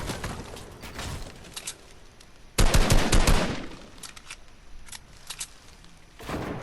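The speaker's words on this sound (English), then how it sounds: "We trade some shots." Gunfire is traded in a solo online shooter match: bursts of rapid shots crackle through the clip, with a louder, denser volley in the middle and another toward the end, and no talking.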